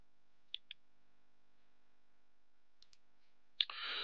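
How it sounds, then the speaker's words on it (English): Computer mouse double-clicked on a setup file while installing Microsoft Office XP Professional on a Windows 11 computer: two quick sharp clicks, then another faint pair, then a louder click and brief noise, in a quiet room. "So let's just double click on Setup."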